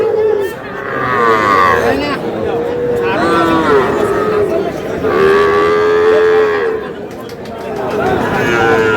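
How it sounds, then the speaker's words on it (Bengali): Bull calves moo repeatedly at a busy cattle market in Noakhali, with long, loud calls that overlap one another over a steady murmur of crowd chatter. "ষাঁড় বাচ্চা"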